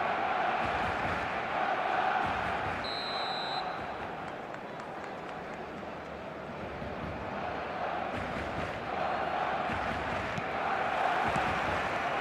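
In an eFootball video game, a stadium crowd roars and chants continuously through match day build-up, a thick, surging wall of noise with a brief whistle-like tone early on.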